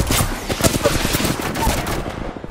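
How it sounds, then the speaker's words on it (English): Automatic gunfire in Apex Legends, a steady run of sharp, loud shots in quick succession with game effects, while a voice speaks over part of it. "I'm taking fire."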